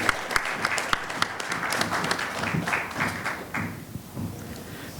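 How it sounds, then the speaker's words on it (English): Audience at a book launch claps in sustained applause, with a few sharp louder claps near the start, easing off toward the end. "A round of applause for him."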